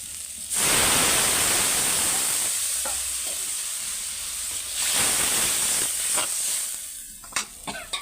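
Water poured into a hot pan of spiced fish curry with potato and bitter gourd bursts into a loud, close hiss of steam that slowly fades, followed by a few utensil clinks.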